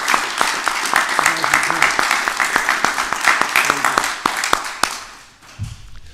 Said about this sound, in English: Can we have a big round of applause again for everyone?